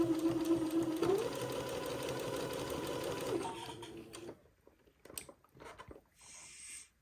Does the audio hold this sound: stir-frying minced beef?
no